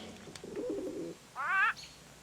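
Pigeons cooing close by: a low, warbling coo followed by a short, higher trilling call, clear against quiet background, with no talk.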